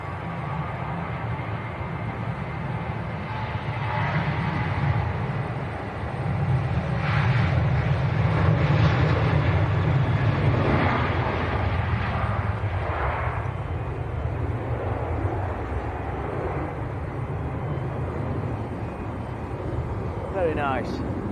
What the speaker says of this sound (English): the Enter Air is just starting the roll, so this one is going out to Bristol 737-800